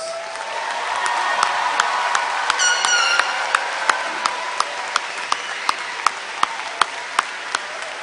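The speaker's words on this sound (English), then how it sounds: "So will you join me in giving these guys one more round of applause?" A high school graduation audience applauding, a dense sustained patter of clapping that gives way to a few sharp, evenly spaced claps near the end.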